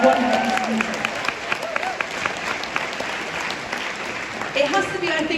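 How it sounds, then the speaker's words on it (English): Sustained audience applause at a Netflix premiere of The Crown in London, steady dense clapping from a large crowd filling the whole stretch, with a few faint voices and cheers mixed underneath. "please, a round of applause for this wonderful music"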